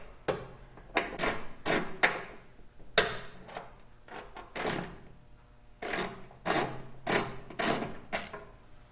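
Old aluminum spools being removed from an Indian motorcycle with a torque wrench and 6mm hex key, heard as a series of close, crisp metallic clicks and ratcheting bursts in uneven clusters, with no talking.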